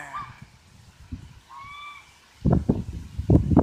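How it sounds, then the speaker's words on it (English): Ducks at a lake give short honking quacks in bursts near the end, preceded by faint outdoor ambience and a few soft calls. "That duck okay or something?"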